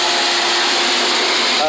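Pool cleaning vacuum pump pulling water from a tank, a loud steady whining roar that holds unchanged for the short span, with a brief shift at the end.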